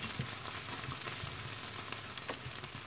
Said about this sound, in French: Pour griller de sésame, vous juste mettre dans une poêle, pas besoin de l'huile.